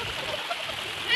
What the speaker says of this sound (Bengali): একটু পানিতে অনেক বেশি স্রোত,